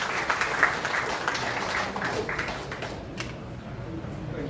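Crowd applause at a Korean party chapter chair's inauguration ceremony as an appointment certificate is handed over: dense clapping at moderate loudness for about three seconds, then tapering into scattered claps with murmuring voices beneath.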